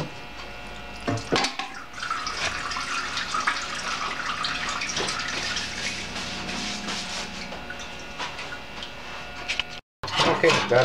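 Fuel injector bodies going into an immersion cleaning tank, heard as steady watery churning and sloshing with metallic clinks at the start and a brief cutout near the end.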